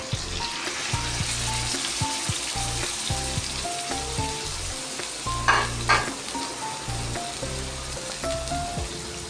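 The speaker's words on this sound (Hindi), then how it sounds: "अभी हमने सिर्फ कलेजी फ्राई करनी है" Chicken liver (kaleji) frying in oil on a tawa, a loud continuous sizzle with crackling spits and a brief burst of stirring scrapes midway, close up with no voices.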